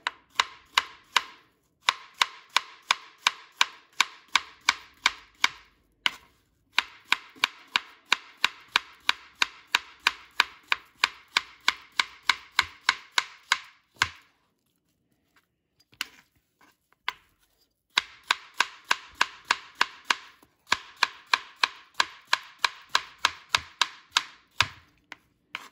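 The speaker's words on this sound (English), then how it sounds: "I'm just going to cut these things little, yeah. I mean, thin" A knife chops bananas thinly on a cutting board in quick, steady, evenly spaced taps, running in long bursts with short pauses between them, close and fairly loud with no talking.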